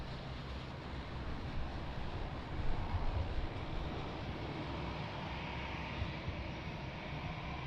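An airplane on approach at Lisbon Airport, a broad steady jet roar at moderate distance that swells briefly midway before settling back to a constant rumble.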